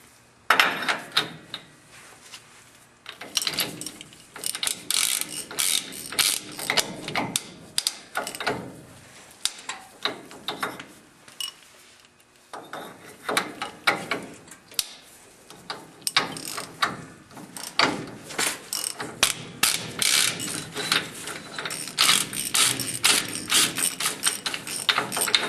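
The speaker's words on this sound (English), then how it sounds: "you need a special socket to remove the wheel bearing nut to pull the hub out" A socket ratchet clicks in quick repeated bursts while removing the wheel bearing nut on a Dana 60 axle hub, with brief pauses between runs of close, crisp ratcheting.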